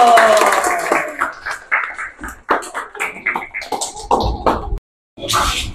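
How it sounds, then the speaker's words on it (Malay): Scattered clapping from a classroom audience applauding the Uranus group during a parody-song session, with irregular claps and a few voices mixed in, stopping abruptly before a brief silence and a final burst of noise. "tepukan untuk kumpulan Uranus"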